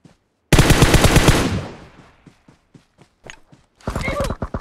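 In PUBG Mobile, a loud, rapid burst of automatic gunfire fades into scattered single shots, then a second loud burst of rapid fire closes the clip.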